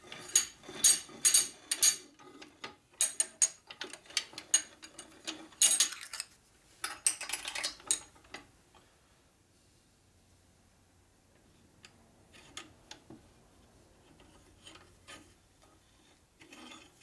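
A ratchet wrench torquing bolts on a 1948 Harley panhead 74ci motor with mismatched FL cases, bursts of rapid close clicking in the first half, then quieter scattered ratchet clicks after a pause.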